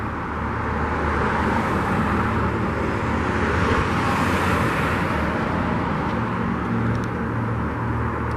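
A car passes on a suburban road in Granada Hills, a broad rolling whoosh of tyres and engine that swells and fades while traffic noise continues steadily underneath.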